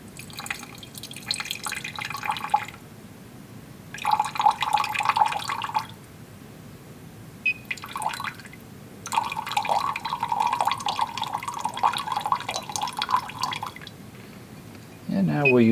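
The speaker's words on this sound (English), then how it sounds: "So let's add enough water to once again get up to 100." Water is poured and dripped into a lab solution in bursts, splashing and trickling close up between pauses, with a person talking over parts of it.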